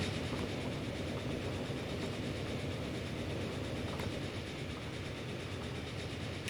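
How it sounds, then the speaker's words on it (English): A passenger train in Transport Fever 2 runs at about 50 mph as the fastest on the line, a loud continuous rumble and rattle that holds steady from start to finish. "it's the fastest passenger train we've got"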